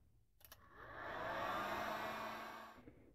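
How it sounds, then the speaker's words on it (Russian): A heat gun switches on with a couple of clicks, then blows a steady, rising whoosh of air for a few seconds while warming a Ural motorcycle cylinder, before cutting off. "Теперь возьмем строительный фен, разогреем наш цилиндр в местах установки кожухов штанг."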